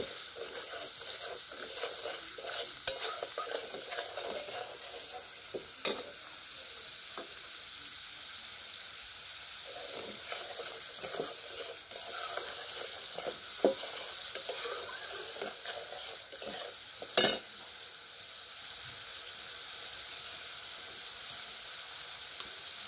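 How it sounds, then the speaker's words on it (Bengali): Spice masala being sautéed in a pan for a fish curry, a soft steady sizzle broken by spatula scrapes and stirring clatters, close and fairly quiet with no talking. "এবার মশলাটাকে কষিয়ে নেব"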